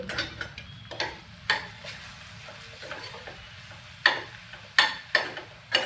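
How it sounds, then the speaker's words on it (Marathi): A spoon scrapes and taps against a pan while okra, onion and tomato with spices are stirred together, irregular clinks over a soft, steady sizzle. "मी मिक्स करून घ्यायचं थोडंसं आणि सगळं भेंड्याला ते लागेल मसाला"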